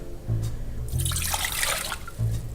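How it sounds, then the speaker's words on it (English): Water is poured into a bowl for a fresh peach pie filling, a steady close splashing stream lasting about a second amid low kitchen hum. "I'm going to mix 2 cups of water"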